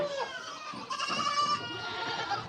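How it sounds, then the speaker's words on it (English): Baby goats bleat on a family farm, several overlapping high, wavering cries close by, with faint sounds in the background. "Baby goats, baby goats, baby goats, baby goats."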